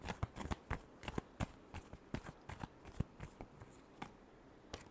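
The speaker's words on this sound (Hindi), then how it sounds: "चलिए देखते हैं लास्ट शफल।" Tarot cards being shuffled by hand, a quick run of soft riffling slaps and flicks in an uneven rhythm, close and quiet with no talking.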